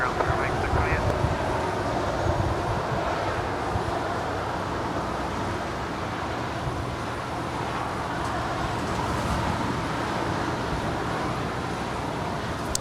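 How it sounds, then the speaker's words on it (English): An Asiana Airlines A350 jet taxiing through a left-hand turn at Los Angeles International Airport produces a steady broadband roar amid airport and road traffic noise, with speech running over it. "Asiana Airlines A350 making that left-hand turn"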